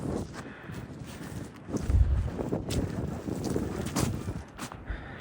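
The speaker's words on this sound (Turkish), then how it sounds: "Yani bayağı rüzgar var." Strong, gusty wind buffets the microphone with a steady low roar, rising in heavier bursts throughout.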